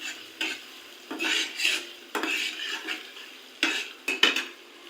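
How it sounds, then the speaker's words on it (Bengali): Chopped onions frying to a reddish brown in a pan, heard as intermittent sizzling bursts mixed with the scrape and clink of a utensil stirring against the pan, close and fairly loud, no speech. "দেখুন, পেঁয়াজটা লাল লাল করে ভেজে নিছি"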